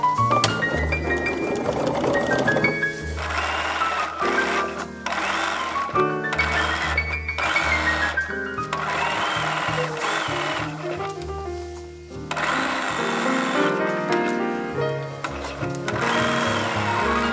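A sewing machine stitches neckline binding on a pajama set at a 5/8 inch seam, running steadily and loudly for a long stretch with brief pauses, alongside tonal background sound.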